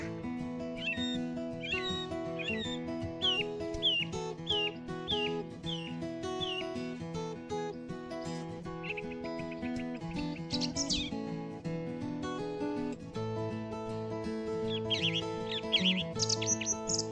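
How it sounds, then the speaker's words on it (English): A song thrush singing at Thurrock Thameside nature park in Essex, repeating short, bright whistled phrases in a steady rhythm, then pausing and resuming with fresh phrases, over a constant outdoor background hum and with no speech. "So I'm going with song thrush."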